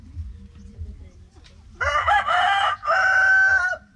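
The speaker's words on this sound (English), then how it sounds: "So they do have some roosters and some chickens." A rooster at a rural house with a chicken coop lets out a loud, close crow in two long bursts after a few seconds of low, quiet background sound.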